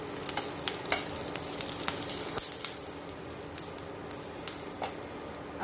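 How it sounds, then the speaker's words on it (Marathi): Masala roasts in a little oil in a pan for a black-masala ridge gourd curry: a soft, steady sizzle broken by scattered scraping stirs and small pops, close and fairly quiet. "त्यावर असं थोडंसं तेल टाकायचं आणि छान अशी भाजून घ्यायची"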